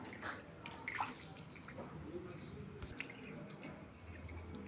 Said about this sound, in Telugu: గిరా గిరా మని సుడుకుండంలా తిరుగుతున్నాయి